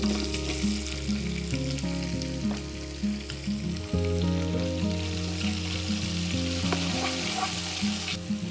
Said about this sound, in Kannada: ತಿಳಿ ಕಂದು ಬಣ್ಣ ಬರಬೇಕು ಅಲ್ಲಿವರೆಗೂ ನಾವು ಇದನ್ನು ಫ್ರೈ ಮಾಡ್ಕೊಳ್ಳೋಣ